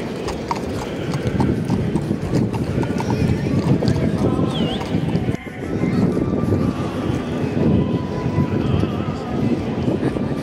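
Police horses clip-clop at the Atletico Madrid stadium, their hooves striking in a dense, uneven rhythm close by over wind buffeting and a busy crowd murmur, with one brief whinny.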